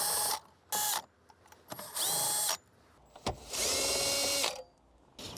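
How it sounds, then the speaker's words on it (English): A power tool fitted with a 10mm socket drives bolts out of a 2017 Toyota Highlander in short, separate whirring bursts, close and clear, with quiet pauses between each run. "You could use a power tool like this,"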